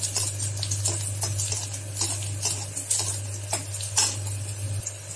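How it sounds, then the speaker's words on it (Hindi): Garlic frying in oil in a pan for vada pav: a soft sizzle under repeated clinks and scrapes of a stirring utensil, with a steady low hum running throughout. "अब हम इसमें लहसुन को भी फ्राई कर लेंगे 1 से 2 मिनट अच्छे से"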